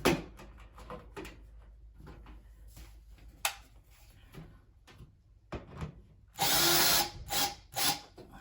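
A power drill drives screws back into a refrigerator during a water line repair: short taps and clicks lead to a loud sustained whir near the end, followed by a couple of brief bursts.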